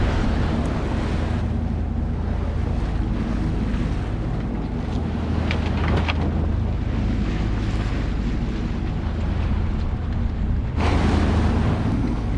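A sailboat motor sailing across open sea in near-calm wind, about a day out from Bermuda: a steady low engine drone with wash of water and wind buffeting the microphone, continuous and fairly loud throughout.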